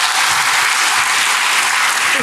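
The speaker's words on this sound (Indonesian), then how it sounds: "Berikan tepuk tangan bagi Tuhan." Loud, dense clapping from a church congregation, a continuous wash of many hands close up with no voices on top.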